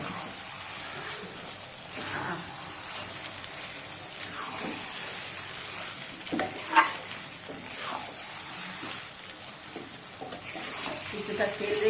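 Eggplant frying in oil makes a low, steady sizzle, with occasional stirring scrapes and a brief clatter in the pan; it stays fairly faint and close throughout.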